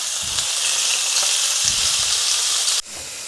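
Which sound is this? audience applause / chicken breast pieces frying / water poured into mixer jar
chicken breast pieces frying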